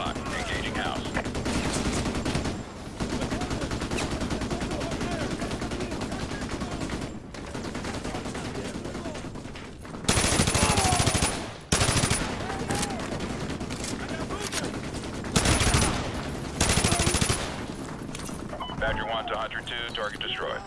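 Heavy gunfire in Call of Duty: Modern Warfare 2 Remastered, with repeated loud automatic bursts and blasts in several volleys, mixed with game sound and radio-style voices throughout.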